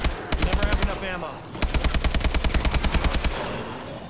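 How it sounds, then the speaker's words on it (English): Rapid automatic gunfire in the video game Advanced Warfare Exo Zombies, a dense steady stream of close shots with a brief pause before another long burst. "Shooting and trying to get the most bullets I can."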